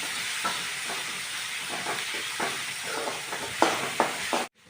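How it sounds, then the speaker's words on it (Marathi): Chopped onion with ginger-garlic paste sautéing in a pan for Maharashtrian-style pav bhaji, a steady broadband sizzle broken by scraping stir strokes and a couple of sharper clinks, close and continuous before cutting out at the end. "कांदा हलकासा ब्राऊन झाला की आलं लसूणची पेस्ट घालायची थोडंसं परतून घ्यायचं"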